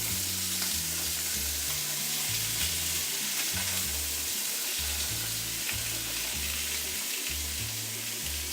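Peppered steaks sizzle in a hot pan just after being flipped, a steady, close, loud frying hiss that runs unbroken throughout with no talking.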